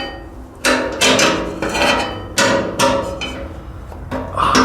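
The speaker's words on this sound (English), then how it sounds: "Let's try the line wrench again." A line wrench working a fuel line fitting on a Ford 800 tractor gives a series of sharp metallic clanks and knocks in uneven bursts, close and loud, with no speech.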